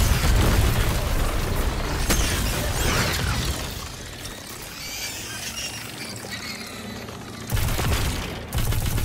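Heavy booming explosions in the game Destiny 2: The Final Shape rumble through a dense, noisy scene, with deep blasts at the start and two more sharp bursts near the end.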